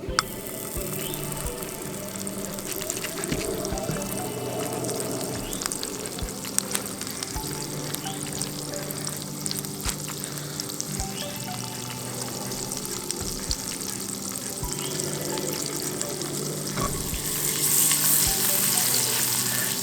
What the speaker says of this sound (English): Pan's heating up pretty good, so we're gonna add our butter.